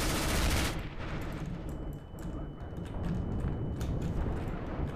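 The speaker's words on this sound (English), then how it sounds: "he's behind me with the shotgun" Shotgun fire in the game CS GO, a loud blast at the start followed by a rapid run of sharp gunshot cracks and clatter that continue steadily through the short stretch.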